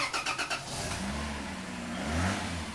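A Toyota Land Cruiser's inline-six engine comes to life: a quick series of rhythmic cranking pulses, then a steady, low idle rumble that rises slightly near the end, fairly close.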